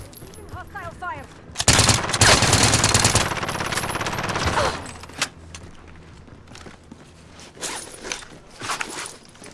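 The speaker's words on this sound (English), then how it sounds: "Receiving hostile fire!" Hostile gunfire in a video game erupts as a loud, dense burst of rapid shots lasting about three seconds, then fades to scattered quieter shots and movement sounds.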